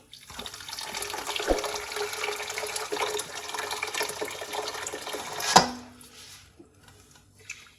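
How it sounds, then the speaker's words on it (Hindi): Hot water poured from above into a pot of cut carrots for gajar ka murabba with sugar, a steady splashing pour lasting about five seconds, then a brief clunk and quiet drips. "और 1 लीटर मैं इसमें पानी ऐड कर दूंगी।"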